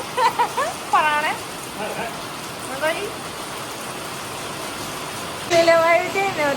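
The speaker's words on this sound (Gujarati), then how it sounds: "જેમ બને એમ વરસાદ વધે જ છે. અત્યારે બહુ વધી ગયો છે." Heavy rain pours down outdoors as a steady, loud hiss that fills the whole clip, with people talking over it.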